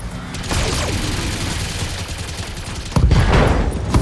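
Weapon fire from battle mechs in the BattleTech video game, loud close bursts with whooshing missile-like sweeps, a rolling volley followed by a second heavy salvo at the end.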